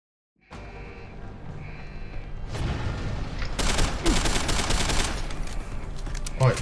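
Gunfire in Deus Ex: Human Revolution starts after a quiet moment with a few shots, then breaks into dense rapid bursts that build into a loud, sustained fusillade close at hand.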